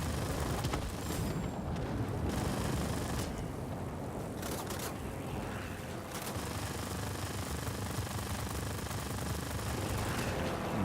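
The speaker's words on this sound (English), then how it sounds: "But the gunfire is real." Aircraft guns in World of Warplanes 2.0 rattle from a P-47B fighter amid a dense, noisy game mix, with sustained bursts of fire and rumbling impacts at moderate level and no talk.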